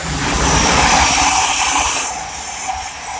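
A Class 700 Thameslink train on a Horsham to Peterborough service passes Welham Green on the East Coast Main Line, a loud, broad rushing roar and hiss that swells, then eases away.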